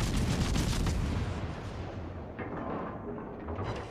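Naval gunfire from HE shells rumbles in the World of Warships video game, with a dense, continuous roar of booming shots and low rolling thunder sustained throughout.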